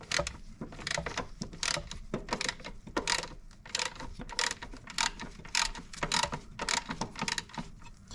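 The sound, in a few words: ratchet with 12 mm socket loosening timing belt tensioner bolt, Lexus IS200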